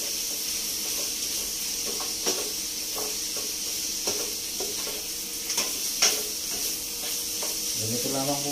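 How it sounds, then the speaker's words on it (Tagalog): Liver and gizzard adobo sizzling in a pan while it is stirred, a steady hiss with scattered scrapes and clinks of the utensil, close up. "Tapos halo natin."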